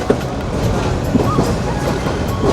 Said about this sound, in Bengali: আমি রয়েছি সেই বলাকা কম্পিউটার ট্রেনে।